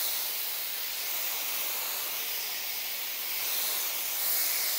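MegaVax protective car shampoo hisses steadily on car paint during a three-phase wash, a broad, even, bright fizz that runs the whole time with no voices.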